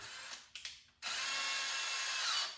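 A power drill drives a screw into wood while building a goat milking stand, with a couple of short trigger bursts, then one sustained close, loud whir of the motor.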